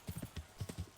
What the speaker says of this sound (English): This horse is hard to steer.